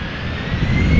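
An EasyJet jet airliner taking off at Amsterdam Schiphol, a loud steady engine roar that builds slightly over a brief moment.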